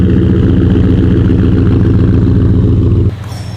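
A truck engine runs loud and close with a steady low idling rumble, then drops off sharply near the end.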